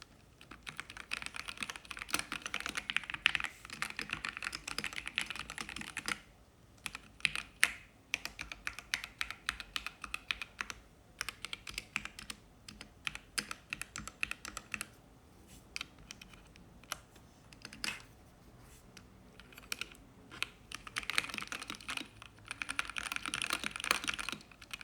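Fast typing on a modded Corsair K70 mechanical keyboard, dense bursts of crisp key clicks and clacks with brief pauses between flurries, close up and fairly quiet, with no talking.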